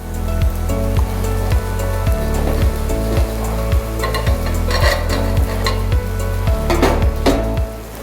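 Wheat dosa batter spread from the edges toward the centre of a hot pan gives a steady close sizzle and frying hiss, with a spatula scraping and clinking against the metal about twice a second.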